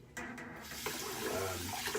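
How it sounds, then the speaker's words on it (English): Water runs steadily from a tap into a sink somewhere near Newport Beach, California, a continuous close hiss that stays loud and even throughout. "sorry about the running water here"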